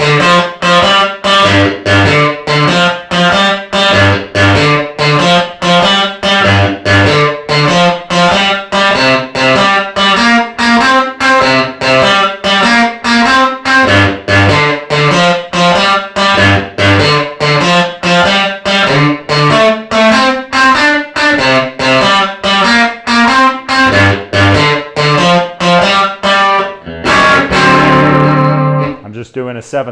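Electric guitar playing a full blues verse lick with overdrive, dense rhythmic picked notes and chords running continuously and loud for the whole passage before ringing out.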